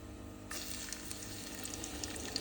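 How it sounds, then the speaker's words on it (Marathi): Finely chopped garlic fries in hot oil with cumin and mustard seeds while making masala vegetable Maggi, a steady close sizzle that rises sharply as the garlic goes in and crackles on. "जिरा आणि मोहरी आपण तळून देऊ थोडी आता आपण घालू त्यात बारीक चिरलेला थोडासा लसूण"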